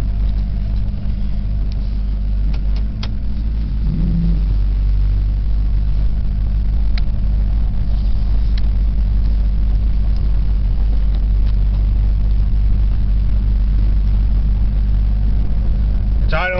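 A green truck's engine idles after a cold start, a loud, steady low rumble that continues throughout.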